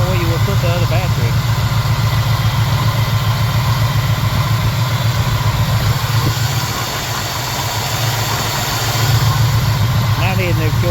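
A car engine idles steadily after a tune-up with Berryman B12, a loud, close, even rumble that holds for the whole stretch, dips slightly in the middle and picks up again near the end.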